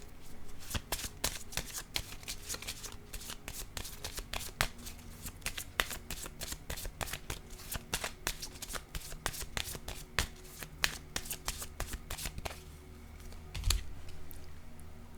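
Tarot cards handled and laid down, a dense run of quick papery riffles, flicks and taps, close and crisp, continuing for the whole stretch with no speech.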